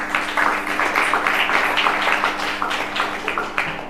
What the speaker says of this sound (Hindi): इन्हीं के लिए सामूहिक तौर पे तालियां बजा दो